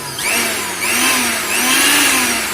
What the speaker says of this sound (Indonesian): secara manual perputaran motor blender ini untuk memecah es